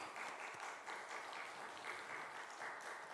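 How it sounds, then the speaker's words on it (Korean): A congregation at a Sunday church service applauds as flowers are presented to two departing evangelists, a soft, distant, steady patter of clapping throughout. "박수를 부탁합니다."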